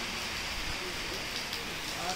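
Steady rain hisses during a hike in Sarakina gorge, making a dense, even patter with no clear gaps. It is fairly quiet and close, with a faint rumble underneath.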